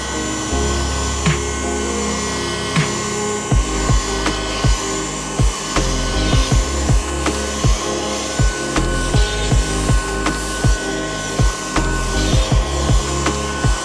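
A Ryobi USB lithium hand vacuum, model FVH67K, is run with a steady, loud motor whine, and rhythmic scraping and knocking comes from quick passes through dust.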